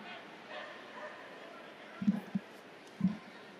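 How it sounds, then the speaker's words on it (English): A few short dog barks, moderately distant, over a steady crowd murmur at a soccer match, with a pair of quick yips followed by a single later bark. "You may hear some barking dogs if you're just joining us on the broadcast."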